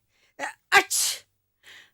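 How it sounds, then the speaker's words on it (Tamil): A person sneezes in a Tamil TV serial scene, with a quick sharp inhale, then a forceful explosive burst, followed by a faint breathy sound moments later, in an otherwise quiet room. "என்னமா தும்முறீங்க?"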